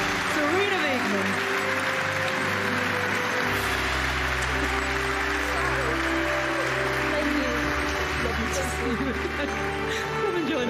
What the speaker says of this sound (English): We'll give her the applause she deserves at the right time.